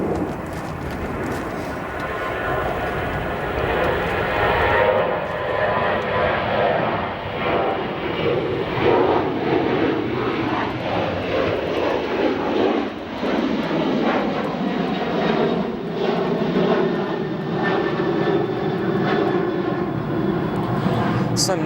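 A heavy jet airliner departs O'Hare Airport, its engines a loud, sustained broadband roar that holds steady throughout and slowly shifts in pitch as the aircraft climbs away.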